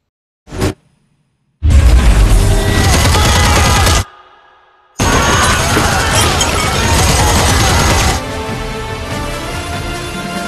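Gunfire in an action film scene sounds as a short burst and then long, dense, loud volleys of rapid shots. A brief pause breaks them up, and the firing then continues at a slightly lower level.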